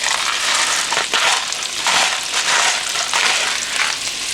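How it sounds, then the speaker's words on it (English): Chopped onion and celery sizzle in a pot as the base for butternut squash soup, a steady close frying hiss with soft stirring scrapes and swells, no talking. "After you put in the onion and celery"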